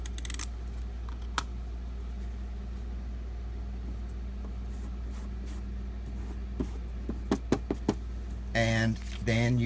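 Adhesive glue dots pressed down with a paper piecing tool give a few soft clicks and taps near the end, close and fairly loud over a steady low hum.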